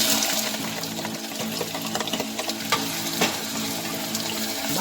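Onion sizzling in about two tablespoons of hot oil in a pan for a crab omelet, a steady close frying crackle with occasional stirring clicks and no talk.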